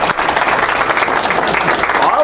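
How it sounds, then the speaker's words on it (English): A room full of people applauds, dense steady clapping throughout, with some voices mixed in. "I'd just like to give a round of applause to Norman Fielder for putting on a gi"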